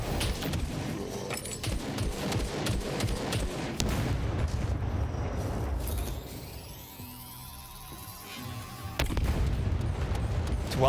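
Rockets fire and explode in the survival game SCUM, deep booms and blasts rolling one after another over a dense rumbling mix, loud and close throughout.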